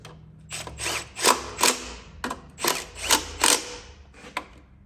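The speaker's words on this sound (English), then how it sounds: "Just putting in the 2 bolts that hold the fuel line and regulator valve there." Bolts for the fuel line and regulator valve driven in by hand on a 2003 Infiniti G35, heard as bursts of close ratchet clicking separated by short pauses, with no talking.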